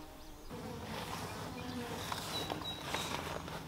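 Honey bees buzz steadily around a hive, a continuous soft drone with individual bees whining past up close, over faint outdoor background noise.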